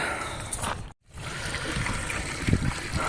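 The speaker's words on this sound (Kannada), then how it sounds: "ಇವಾಗ ನೀರು ಹೊಡಿಲಿಕ್ಕೆ ಸ್ಟಾರ್ಟ್ ಮಾಡೋಣ" Water sprays from a hose in a continuous close, hissing rush, broken by a brief cutoff near one second before the spray resumes steadily.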